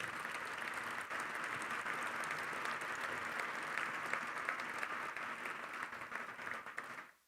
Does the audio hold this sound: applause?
yes